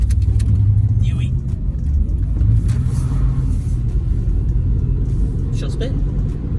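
Engine of a used car from a shady used-car lot, heard from inside the cabin while driving: a steady, loud low rumble with slight revving swells throughout, people talking over it.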